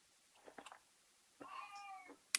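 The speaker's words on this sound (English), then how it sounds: "He he used to only meow whenever I was making videos" A male indoor cat meows faintly in a quiet room: a few brief soft chirps, then a longer drawn-out meow, with a sharp click at the end.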